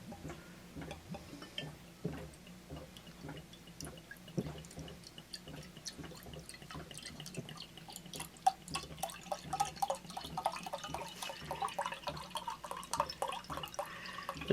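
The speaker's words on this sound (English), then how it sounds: "Okay, let's give her a pour." Home brew beer poured from a bottle, a fine irregular dripping and trickling of liquid that runs steadily and close throughout.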